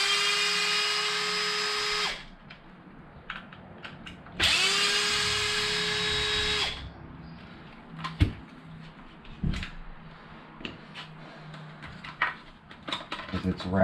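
Two bursts of a whining power drill spinning out screws from the receiver box lid of an Arrma Vendetta RC car, each a couple of seconds long, followed by small clinks of screws and parts being handled.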